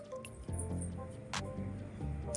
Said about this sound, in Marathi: आपण ते पाणी घालून घेऊया आता.